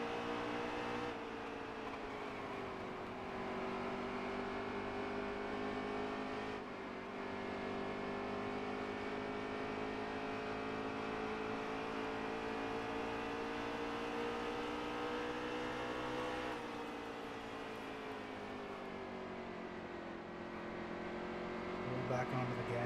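Race car engine from a NASCAR racing video game, a sustained droning whine with rising and falling pitch as it accelerates through gears, steady and loud throughout.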